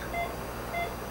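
Two short electronic beeps from a phone's text message alert during a colonoscopy procedure, spaced about half a second apart, fairly quiet over a steady room hum.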